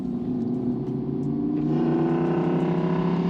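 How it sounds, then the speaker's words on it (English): Motorcycle exhaust from a bike trailing behind a car, coming through a slightly cracked window: a continuous low engine drone that swells a little in the second half, steady and fairly close, with no voices. "So even just my window cracked, as if I'm smoking a cigarette or something like that, I can clearly hear that exhaust."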